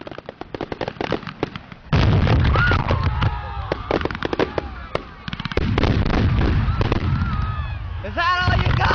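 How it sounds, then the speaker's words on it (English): Dense, rapid fireworks display with many sharp bangs, crackles and booming bursts piled on one another in a continuous loud barrage, with whistling rockets near the end and faint voices in the background. "just adding this quick edit so that you can hear what the fireworks sounded like"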